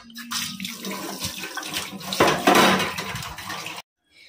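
Tap water running into a kitchen sink to soak a plate, a close splashing flow with faint clinks of dishware that swells, then stops abruptly near the end.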